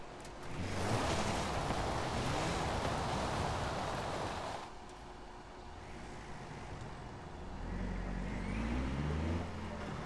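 A 2016 Toyota Land Cruiser in Forza Horizon 4 drives with a loud rumbling engine and road roar. It drops off sharply midway, then the engine swells again before easing.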